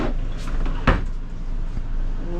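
A bathroom pocket door in a Jayco Seismic 4113 RV slides closed with a brief thud against steady background hum.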